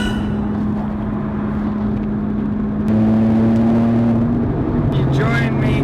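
Engine drone and road roar fill the cabin of a Lotus Exige V6 S on the move, a steady hum that lifts in pitch partway through, captured on a slightly crackly recording.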